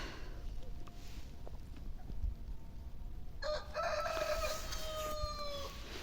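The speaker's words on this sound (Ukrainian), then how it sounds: "Півень співа наших сусідів." A neighbours' rooster crows from a distance on a frosty day, a long rising and falling call over quiet outdoor background noise.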